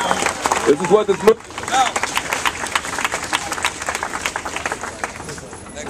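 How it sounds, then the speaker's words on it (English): Crowd applause and cheering at an outdoor political rally in Washington, D.C., a steady wash of clapping with a voice speaking over it early on. "Give a round of applause for the courage, the candor."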